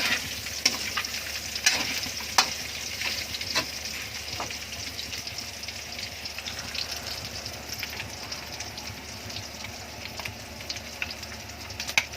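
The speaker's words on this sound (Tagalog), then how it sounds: "Patuloy lang sa paghalo hanggang makuha natin yung tamang" Fatty pork shoulder (kasim) sizzles and fries in a pan while it is stirred, with steady crackling and repeated scraping strokes near the microphone for a Visayan pork dish, no talk.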